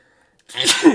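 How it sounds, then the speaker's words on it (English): After a moment of near silence, a single loud, close sneeze bursts out sharply. "A sneeze coming"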